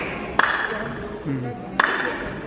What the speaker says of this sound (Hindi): यहाँ जो ताली बजाती है, ताली का आवाज़ बारादरी पर सुनाई किंग के दरबार पर।